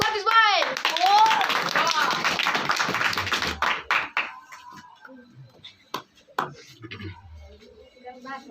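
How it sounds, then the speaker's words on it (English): A classroom of children claps together in a burst that thins out to a few scattered claps, with voices talking over the start. "Clapping for this boy."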